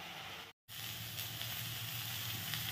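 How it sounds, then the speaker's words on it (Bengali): Sliced bitter gourd and pumpkin fry in a pan, giving a steady, fairly quiet hiss and sizzle with one short dropout. "এই দেখো উচ্ছে কুমড়ো কেটে ভাজা বসিয়ে দিয়েছি"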